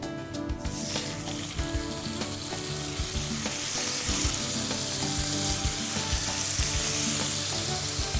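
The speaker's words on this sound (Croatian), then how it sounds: "a potom ćemo pržiti šnice dok ne porumene i sa jedne i sa druge strane" Schnitzels fry in olive oil in a pan, giving a close, continuous crackling sizzle with scattered sharper pops, steady throughout and with no talking.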